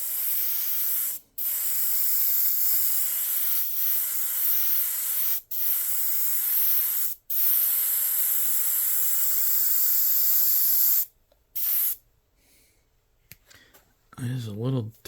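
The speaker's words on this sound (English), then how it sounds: "Yeah, it sprays fine." Airbrush spraying paint onto a T-shirt, a close, steady hiss in several long bursts separated by short pauses, followed by quiet and a brief voice at the end.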